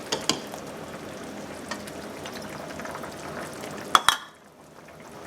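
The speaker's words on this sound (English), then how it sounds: "I'm going to rinse this off." Tap water runs over a kitchen utensil while an okra and beef stew is being cooked, giving a steady close hiss with a few sharp clinks before the flow cuts off abruptly near the end.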